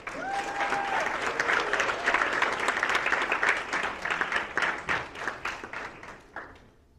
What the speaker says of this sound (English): Round of applause for Woodland Acres